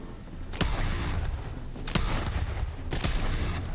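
Borderlands 3 gunfire, three distinct loud shots spaced about a second apart over a steady rumble of combat noise, close and with no speech.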